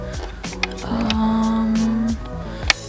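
A sewing machine stitches slowly through denim while a jeans garment is turned into a dress, giving a close, steady mechanical hum and whir with light clicks across the whole stretch and no talking.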